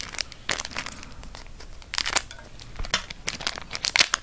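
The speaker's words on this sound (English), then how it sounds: "Never seem to get these packs open." A crinkly foil Yu-Gi-Oh! Shining Darkness card pack is crumpled and torn in quick, uneven bursts, close and sharp, with scratchy rips and rustles and no talking.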